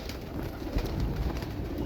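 A pigeon coos softly in a low, murmuring burble, close by and alone against quiet background noise.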